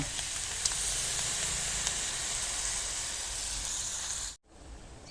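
Rat curry sizzling hard in a hot pan as water goes in, a steady loud hiss and crackle that cuts off abruptly near the end.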